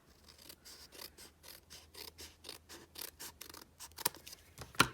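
Scissors trim the edge of a cardstock layer for a handmade birthday card, about twenty quiet, close, rhythmic snips in steady succession, faint and crisp with no talk.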